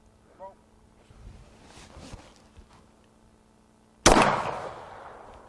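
A shotgun fires a No. 9 shot cartridge at a target exactly 10 yards away: one loud, close blast with a decaying tail follows a few seconds of quiet shuffling and faint murmuring.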